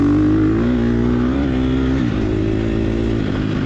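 A 2022 Gas Gas EX 250F dirt bike engine on a harescramble race course holds a close, steady droning note under light throttle, dipping slightly in pitch partway through before settling again.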